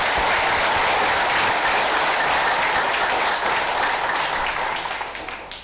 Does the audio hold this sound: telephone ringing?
no